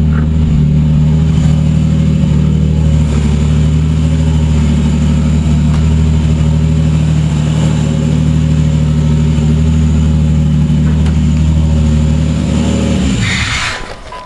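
A 3500 V6 turbo Grand Prix engine with Megasquirt fuel injection idles steadily at a raised, constant rev with a low droning hum, close up, running without a radiator cap, before cutting off at the end.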